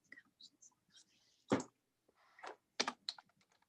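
Keyboard keys tapped during an online council meeting, coming in a few short separate bursts of clicks with gaps between them, fairly close and clear, with soft background murmur in places.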